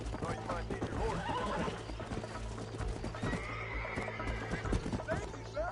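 A horse in the Western game Red Dead Redemption gallops with steady clip-clopping hooves and lets out loud neighs, close and busy over game ambience, with a voice talking briefly.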